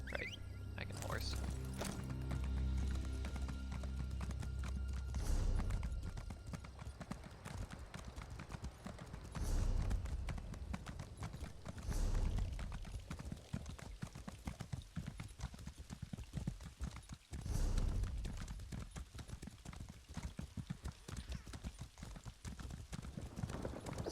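Horse hooves clip-clop steadily in Elder Scrolls Online, a continuous rhythmic trot up close with occasional louder bursts and soft game ambience underneath.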